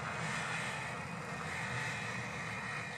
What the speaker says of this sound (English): Hopefully you can hear me talking over that F-15 or whatever it is that's flying over